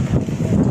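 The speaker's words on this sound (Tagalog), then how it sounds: "Grabe kay kahangin." Strong wind gusts roar across the microphone in a brief, close, buffeting rush of broadband noise.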